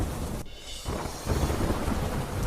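Heavy monsoon rain pours steadily at the Pavagadh hilltop pilgrimage site, a dense close roar with a deep rumble of thunder underneath. The roar dips briefly early on, then swells back strongly.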